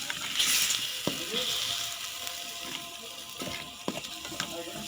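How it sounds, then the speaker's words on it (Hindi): Garlic cooking in water in a karahi over a medium flame, a steady soft sizzle and bubbling throughout with occasional light stirring clicks, close and fairly quiet. "मैं इसमें गार्लिक में जब तक कि इसका पानी बिल्कुल ड्राई नहीं हो जाता, मैं इसको मीडियम फ्लेम के ऊपर कुक करूँगी।"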